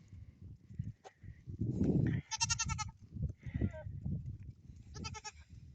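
Kiko and Nigerian goats bleating on a farm, several close, loud cries in quick succession over a low rumbling background, with quieter calls in between.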